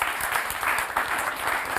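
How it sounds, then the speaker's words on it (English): A talk show studio audience claps in a short, loud burst of applause that runs throughout without a pause. "Clap for her."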